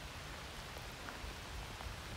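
Steady rain falling, a constant soft hiss of drops with faint scattered patters, even and unbroken throughout.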